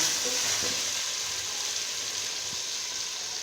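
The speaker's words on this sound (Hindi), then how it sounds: "ये गोश्त हमारा बहुत अच्छे से भुन गया है" Beef frying in a pot for Pakistani yakhni pulao gives a steady, even sizzle that stays close and constant, with a few faint stirring knocks underneath and no talking.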